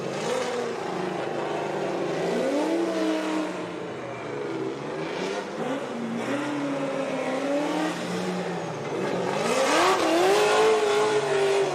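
Drift race cars at a Formula Drift professional round in New Jersey, 2023, with engines revving hard and steadily and tires squealing, forming a loud, continuous roar that rises and falls without any speech.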